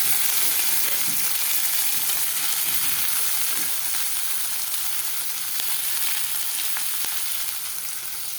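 Chopped onion frying in hot oil with garam masala in a pan, giving a loud, steady, close sizzle that runs unbroken throughout with faint crackles and no talking.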